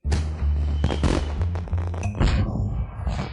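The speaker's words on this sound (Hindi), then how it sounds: "पटाखे चलाने का वक्त आ गया।" Firecrackers go off in a night scene of a Hindi drama, with a rapid run of sharp, loud pops and crackles close by, then a few scattered bangs as the bursts thin out.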